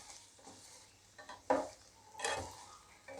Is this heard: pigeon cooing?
no